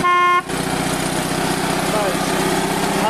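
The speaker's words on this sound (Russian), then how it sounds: "Есть сигнал." Electric horn on a small BMW micro tractor gives one short loud steady toot. After it stops, the tractor's engine keeps idling close by with a steady rumble.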